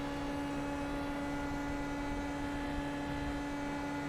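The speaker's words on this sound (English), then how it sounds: "So I can actually hear it in the engine that I'm no longer in draft." Indy Pro 2000 open-wheel race car at Spa in iRacing, engine droning at a steady sustained pitch after falling out of the draft, a flat continuous tone with no rises, heard alone and fairly quiet.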